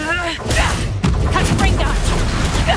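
Confringo spell blast in the video game Hogwarts Legacy, in the middle of a duel: two sharp impacts, the second harder, set off a rapid, crackling barrage over a low rumble, with a voice heard briefly at the start.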